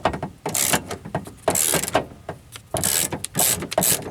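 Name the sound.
10mm ratchet undoing a door latch bolt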